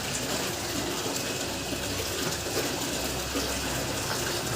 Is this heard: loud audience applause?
no